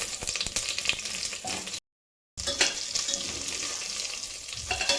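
Stuffed eggplants sizzling in hot oil with cumin and asafoetida in a pan, a steady close frying crackle with stirring clatter, briefly cut to silence before the sizzle resumes.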